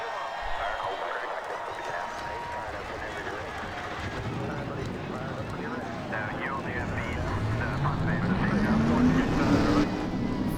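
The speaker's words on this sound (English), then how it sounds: "Drivers, start your engines." Stock car engines start up and idle in the racing game NASCAR Racing 2003 before a 75-lap dirt race on a half-mile oval at Bristol, Tennessee; a steady massed rumble builds, with one engine revving upward near the end.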